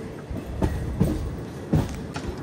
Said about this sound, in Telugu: చూడండి ఎదురుగానే ట్రైన్ ఉంది, ఆ నుంచి ట్రైన్ వస్తుంది